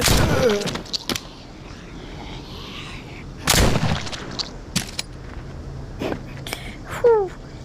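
Gunfire in The Walking Dead video game rings out as scattered sharp bangs, including a heavy blast midway and several isolated shots. A voice can be heard briefly near the start.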